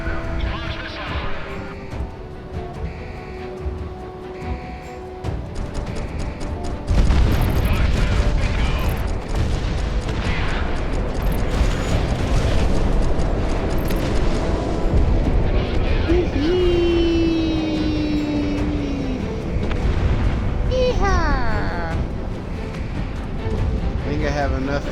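Missile launches and explosions in the jet combat game Project Wingman sound as a loud rushing boom that rolls into rumbling blasts and mechanical clatter, with a voice talking over much of it.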